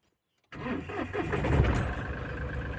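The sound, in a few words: car engine being started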